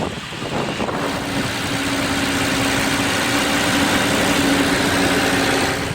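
A hand-built engine in a 2012 Maybach 62S luxury sedan idles steadily and smoothly, a continuous even hum held at a constant level for the whole stretch with no voices.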